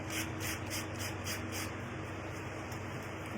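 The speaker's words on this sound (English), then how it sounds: "I'm just going to take a little piece of sandpaper." Coarse sandpaper rubbed by hand over a cheap Dollar Tree flag decoration, a close, steady rasping scrub in quick repeated back-and-forth strokes that holds continuously throughout with no voices.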